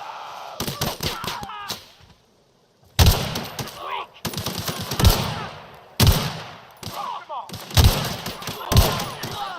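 Gunfire in The Outer Worlds, rapid machine-gun-like bursts in several loud volleys with brief pauses, one near-silent gap, punchy and close throughout.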